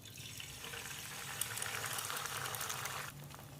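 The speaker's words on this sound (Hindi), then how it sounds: "अब हम पैन में थोड़ा सा ऑयल डाल के एग को फ्राई करेंगे" An egg frying in a little oil in a pan gives a steady, close, broadband sizzle that carries through the whole stretch and eases off slightly near the end.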